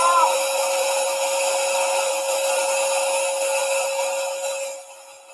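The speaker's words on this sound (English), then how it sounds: "White noise, you see, this is very popular in the United States and perhaps in Canada also" Steady white noise plays to soothe a newborn baby to sleep, a constant even hiss with a faint tonal hum, continuous and moderately loud before fading out at the end.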